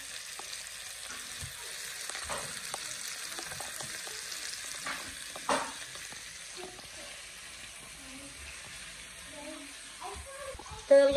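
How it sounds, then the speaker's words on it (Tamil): Marinated fish goes into a Sri Lankan sarakku fish curry with softened tomatoes, sizzling and frying steadily in the pan with faint stirring clinks and a sharper burst near the end. "இப்போ வந்து களி வச்ச மீனை கறிக்குல சேர்க்கிறா"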